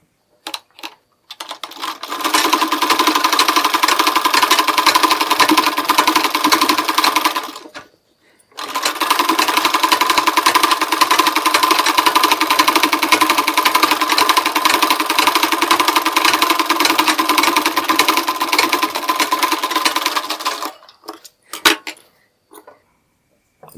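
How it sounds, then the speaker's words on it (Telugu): A sewing machine stitches a blouse hem in two long continuous runs of fast, even rattling, broken by a short pause, then stops with a few scattered clicks, close and loud. "ఇలాగా దీని మీద కూడా ఒక స్టిచ్ చేయాలి"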